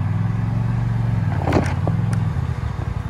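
A Jeep working up a rock wall on Poughkeepsie Gulch Trail, its engine droning loud and steady under strain while a tire spins, with brief clattering and scrabbling partway through.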